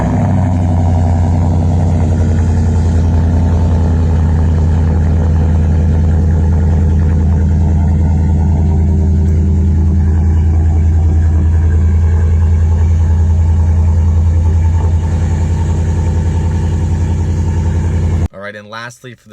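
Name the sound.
Ford F150 5.0L V8 with Flowmaster Outlaw exhaust system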